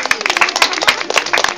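An audience gives a quick, lively round of clapping at a festive Advent calendar event, close and fairly loud, with sharp individual claps standing out in the burst.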